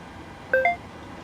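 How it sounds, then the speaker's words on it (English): Two short electronic beep tones sound close together inside a PMDG 737-800 cockpit in Microsoft Flight Simulator 2020, a stacked DTMF-like double chirp over a quiet hum. "I'm sorry for that beeping sound. I can't fix that now."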